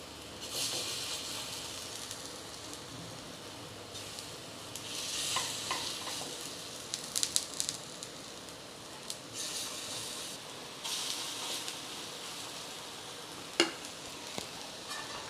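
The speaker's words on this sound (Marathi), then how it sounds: "ते गॅसवर मी आप्पे पात्र ठेवले. त्यामध्ये थोडं अर्धा चमचा तेल टाकून घेतले. आता 1 चमचा यामध्ये हे मिश्रण मी टाकून घेते." Spoonfuls of batter sizzle in an oiled appe pan over a gas flame, a soft continuous hiss that swells in bursts, with a few light clinks of the spoon.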